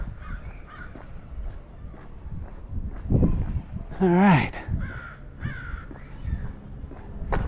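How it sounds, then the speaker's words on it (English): A crow caws loudly outdoors on a walk, a few harsh rasping calls with one especially loud caw midway, mixed with footsteps and a person talking briefly. "A loud crow."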